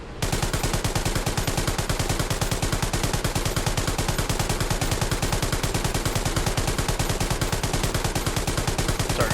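Sustained rapid machine-gun fire from a tank in the World War II game Hell Let Loose, loud and evenly paced bursts running without pause.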